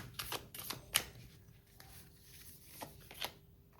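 Playing cards handled for a tarot-style reading: a few sharp, close snaps and soft riffling rustles scattered over a few seconds, quiet and alone with no voice.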